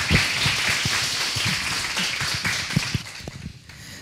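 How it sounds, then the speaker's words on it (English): Applause from the audience at a university 3MT preliminary round event, a steady wash of clapping with some distinct louder claps, fairly near and continuous for about four seconds before thinning out at the end. "Everyone please give a big round of applause."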